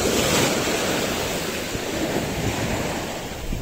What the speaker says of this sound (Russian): И ветерок такой дует.